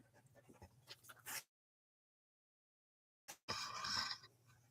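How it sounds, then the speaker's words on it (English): A golden doodle whimpers and pants up close in short, fairly loud bursts, broken by a long stretch of near silence before a louder whining run resumes. "This is a golden doodle."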